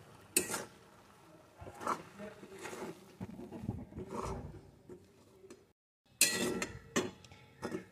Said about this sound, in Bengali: এবার এইভাবে নেড়ে একটা মন্ড তৈরি করে নেব